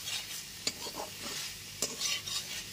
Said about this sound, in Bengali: খুব ভালো মতো একটু নাড়াচাড়া করে নিচ্ছি।